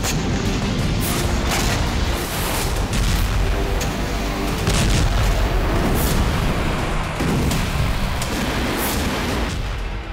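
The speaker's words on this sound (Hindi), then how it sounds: "पुतिन ने बीती रात यूक्रेन के पश्चिमी हिस्से में बारूदी भूचाल ला दिया।" Russian strikes on weapons depots in western Ukraine: a continuous loud roar of blasts and rumbling booms, with repeated sharp bursts standing out over dense low noise throughout.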